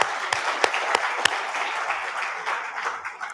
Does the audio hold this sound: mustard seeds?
no